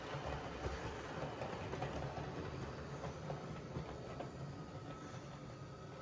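A model freight train rolls steadily on its layout toward a tunnel, a low, continuous rumble of small wheels and motor at moderate distance, with no talk.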